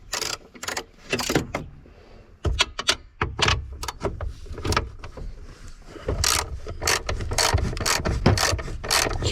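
Wrench work loosening bolts underneath a 1996 Ford Powerstroke diesel truck, with a run of sharp metallic clicks and ratcheting bursts, close and fairly loud, in an irregular rhythm with no talking.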